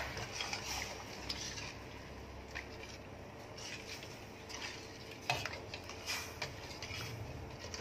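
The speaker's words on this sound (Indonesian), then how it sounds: "Aduk-aduk lagi sampai larut sempurna antara gula dengan airnya." Sugar and water being stirred in a pot for caramel, a quiet, soft scraping and swishing with occasional light clinks of utensil against metal, continuous and close but faint.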